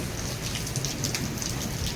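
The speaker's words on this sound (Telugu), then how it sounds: "ఉరుములు మెరుపులతో పడుతుంది వర్షం" Heavy rain pours at night over a village in Nellore during a thunderstorm, a dense, steady, close roar of drops on surfaces with no distinct thunderclap standing out.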